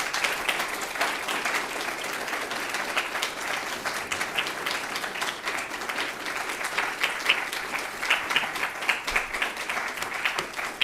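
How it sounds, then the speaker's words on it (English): An audience at a professorship investiture ceremony gives a sustained round of applause, dense hand clapping filling the room evenly from start to finish with no voices on top. "I think it deserves a hearty round of applause for that"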